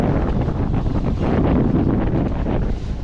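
Strong wind out on the West Philippine Sea, roaring and buffeting hard against the microphone from a boat, a loud, continuous rush with gusty pulses throughout and no voices.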